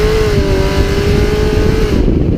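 A Chevrolet Camaro's engine roars loudly as it accelerates, a dense, close, continuous growl with a rising then steady tone, cutting off abruptly at the end.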